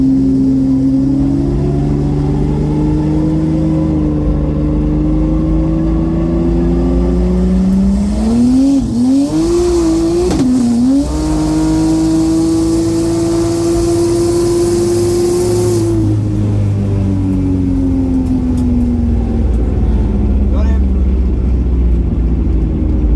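A turbocharged race car accelerates hard against a Volkswagen, with a loud engine tone climbing through the gears, a wavering shift in the middle, then a long sustained wail that fades and drops away near the end.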